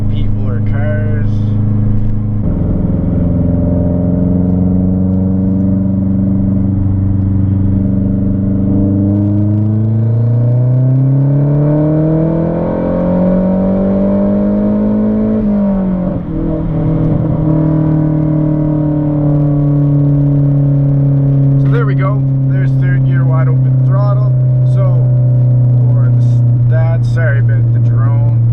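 Big turbo Mazdaspeed 3 engine accelerating hard at wide-open throttle in third gear: a loud droning rise in pitch that builds and then drops at the shift, with brief talk near the end.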